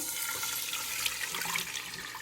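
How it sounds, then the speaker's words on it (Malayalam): Half a litre of milk pours steadily into a pan for a couple of seconds, a continuous splashy rush with no talking. "അതിലേക്ക് ഞാനൊരു അര ലിറ്റർ പാൽ ഒഴിച്ച് കൊടുക്കുവാണേ"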